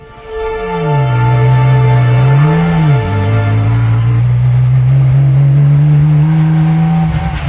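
The engine of a homemade Formula One style car, built from scratch, runs with a loud, steady droning tone that dips briefly with a rev before settling into a constant close-up hum.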